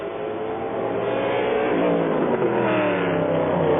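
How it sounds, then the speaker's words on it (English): A Lola race car with a big American Ford V8 engine at the 1999 Le Mans 24 Hours, a loud, sustained engine roar that builds steadily in pitch and intensity as it accelerates, with no speech. "That's the Dutch crude Lola with a big American Ford V8 in it."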